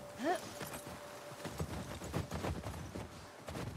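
Horse hooves clip-clop at a walking pace in The Last of Us Part 2, a steady, fairly quiet run of uneven thuds with a brief whinny-like tone near the start and soft speech-like noise mixed in.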